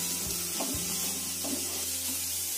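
Cabbage filling for momos being stirred and fried in a pan, with a steady close sizzle and several scraping stir strokes, no voices.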